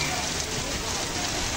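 Steady rain pouring down at an outdoor pool resort in summer, a dense even hiss of drops on water and hard surfaces filling the whole moment.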